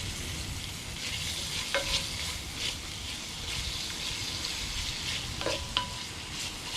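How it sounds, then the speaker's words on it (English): Steady crackling sizzle of bacon on a lump charcoal grill outdoors, a constant hiss with a couple of sharper pops, heard alone at moderate distance. "I've got the bacon sizzling outside."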